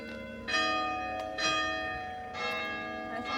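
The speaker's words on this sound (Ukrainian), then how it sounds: "дзвони бамкають." Church bells ring at noon outside a town in Italy, three loud overlapping peals with long ringing harmonic tails, each strike swelling then slowly fading over the next.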